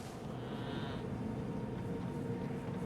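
Goats in the video game Elden Ring bleat in a drawn-out, wavering call over a steady ambient game background.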